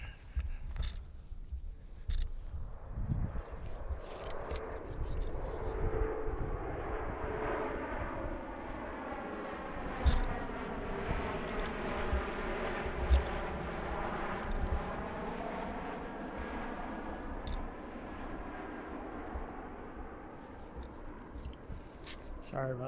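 An airplane arriving at Harrisburg International Airport, a broad engine roar building and fading slowly over about twenty seconds, heard from a distance outdoors with occasional small handling noises close by.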